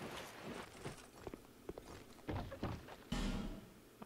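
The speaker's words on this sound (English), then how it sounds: "I heard footsteps." Footsteps in the video game Dark Souls II, a run of irregular, muffled thuds and taps at moderate loudness, with a heavier thump near the end.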